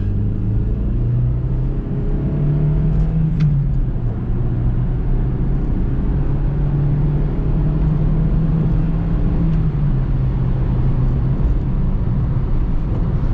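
A car with a 1.4-litre engine drives and accelerates, its steady, loud engine drone rising in pitch as it speeds up, then holding and wavering as the gears pull through. Road rumble sits beneath the engine and nobody speaks.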